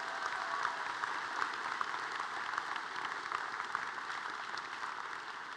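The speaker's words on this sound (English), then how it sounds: "Please give these students a nice round of applause." Steady, fairly distant audience applause at a student completion ceremony, a continuous even wash of clapping heard without any talking.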